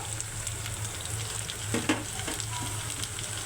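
Spices frying in a pan with eggplant and fish for a home-style curry, a soft steady sizzle with a few quiet stirring scrapes, close and fairly faint, no talking.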